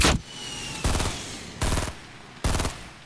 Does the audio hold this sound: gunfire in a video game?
yes